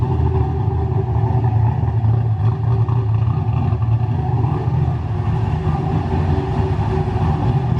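A car fitted with a homemade power steering system driving, its engine droning steadily and close with road rumble, no talk.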